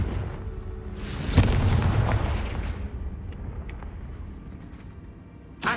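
Confringo blasting spell in Hogwarts Legacy erupts as a sharp, loud explosive boom, its rumbling blast tail fading over a few seconds, followed by faint magical tinkles and a second smaller burst at the end.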